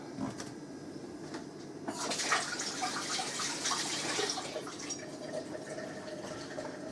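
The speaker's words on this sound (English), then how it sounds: "Right, I'll just go and rinse my hands." Hands being rinsed under a running kitchen tap: a few quiet knocks, then a burst of gushing water for about three seconds before it shuts off.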